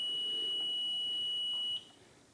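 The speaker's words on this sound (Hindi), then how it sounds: "वही 5 सेकंड का बजर साउंड" An EVM VVPAT voting machine buzzer during a mock poll sounds one steady, continuous electronic tone that holds for nearly two seconds and then cuts off abruptly, leaving faint room noise.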